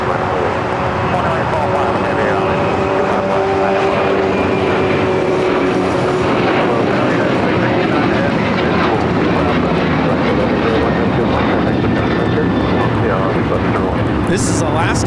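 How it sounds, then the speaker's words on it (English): An Alaska Airlines Boeing 737-900ER jet airliner taking off at LAX, a loud, sustained engine roar with rising whining tones, heard continuously while a person talks over it. "taking off to Kahului on a 737-900ER"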